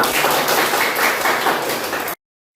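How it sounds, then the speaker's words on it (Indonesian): A school class claps hands together in a room, a dense loud burst of many overlapping claps lasting about two seconds before stopping abruptly into silence. "tepuk tangan sekali lagi"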